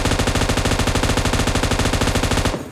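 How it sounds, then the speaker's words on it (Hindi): A long unbroken burst of rapid automatic gunfire in the shooter game PUBG Mobile, loud and close, the shots evenly spaced in a fast rhythm until they cut off abruptly at the end. "देखो कितनी गोलियां पड़ी।"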